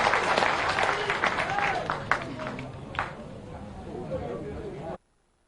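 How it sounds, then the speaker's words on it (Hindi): Crowd applauding at a political rally in Bhopal, Madhya Pradesh, welcoming party leaders: dense, sustained clapping for about five seconds with a voice heard over it, then cutting off abruptly. "एक बार फिर जोरदार ताली बजा के अपने नेताओं का स्वागत करें।"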